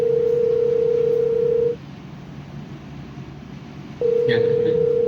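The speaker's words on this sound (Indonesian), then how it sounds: "Coba telepon Pak Marius deh" A telephone in an Indonesian short film gives a steady, loud, continuous tone that breaks off for a couple of seconds under faint background noise, then resumes.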